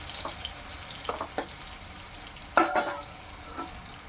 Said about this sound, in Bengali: আমটা অল্প একটু ভেজে নিই।